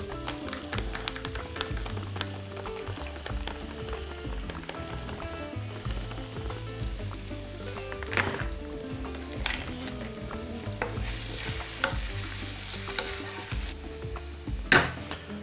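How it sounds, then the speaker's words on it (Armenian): Onions frying in a pan of sauce for white-sauce pasta, a continuous close crackling sizzle with scattered sharper pops and stirring scrapes, no talking. "Սոխը թող տապակվի, փափկի, հալվի"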